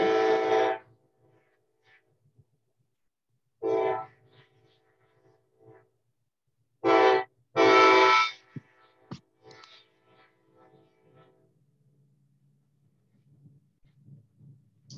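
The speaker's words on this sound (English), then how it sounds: "he just keeps on honking all the way past" A train horn honks repeatedly as the train goes past a building, in harmonic blasts of varying length. Two of them come close together, followed by fainter rattling and low rumble.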